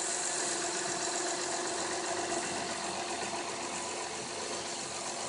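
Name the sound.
Honda V6 engine idling, Honda Crosstour 2014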